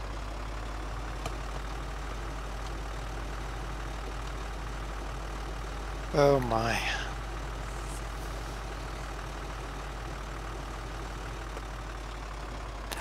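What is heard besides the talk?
tractor engine idling, from a video game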